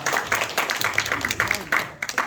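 A church congregation at a Bible recitation contest claps in short uneven bursts, moderately loud, with a voice talking over the clapping.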